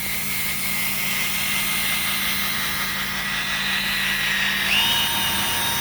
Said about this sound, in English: I have the drill on the lower setting